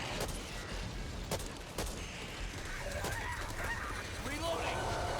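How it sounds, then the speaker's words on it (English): Birds scared off by gunfire in the video game Back 4 Blood: a few sharp shots crack out, then a flock of birds squawks and flutters in a busy, moderately loud scramble. "I shot at something and it scared the birds"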